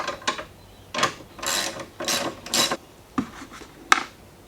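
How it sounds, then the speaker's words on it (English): Ratchet wrench loosening a 10mm bolt behind a car's fuse box, a series of about six short clicking pawl bursts, close and distinct, with brief pauses between strokes. "we're going to remove the bolt at the back of the fuse box here"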